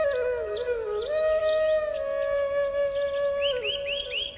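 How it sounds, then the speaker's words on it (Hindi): Birds chirp and whistle near a village house, with a long tonal call sweeping alongside repeated high, bright tweets and trills, close and clear with no talk. "यहाँ पे देखो चिड़िया का आवाज़ भी आ रहा होगा"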